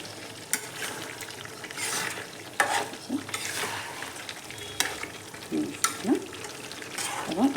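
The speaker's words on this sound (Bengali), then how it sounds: "এবং এটা একটু নেড়ে চেড়ে দিই।" Fried potatoes stirred into a sizzling chicken curry in a pan, with a steady low frying hiss broken by several sharp scraping stir strokes close by, and no talking.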